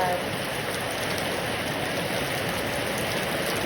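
Steady rain pours down outdoors among trees, a continuous dense hiss without breaks, close and even throughout.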